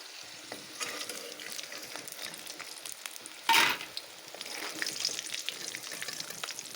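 Dhekishak (fiddlehead fern) frying in oil in a pan until reddish-brown, a steady crackling sizzle with light stirring scrapes, rising briefly in a louder burst midway, then continuing close and moderate with no talk.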